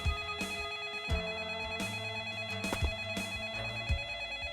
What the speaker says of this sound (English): Getting phone calls constantly now.